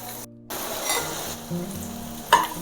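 Eggs frying in a pan with salt and chili powder for egg masala curry, a steady close sizzle with a brief dip near the start and a sharp clink of the spatula near the end.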